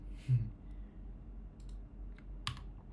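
Two quiet, separate clicks of a Ctrl C key press on a computer keyboard during command-line terminal work, with a faint low hum underneath.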